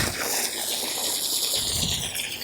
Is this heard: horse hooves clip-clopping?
no